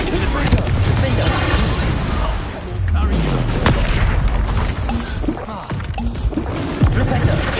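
Confringo fire spells in the game Hogwarts Legacy burst in repeated booming explosions with crackling debris and a low rumbling sweep, loud and dense amid combat noise.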